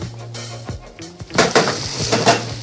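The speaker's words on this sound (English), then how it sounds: "I'm gonna use a slotted fish spatula so I can turn this beast." A slotted fish spatula scrapes under a potato rösti and turns it in a hot pan, with a few close metallic clinks and scrapes, then a louder rising sizzle of fat after the flip.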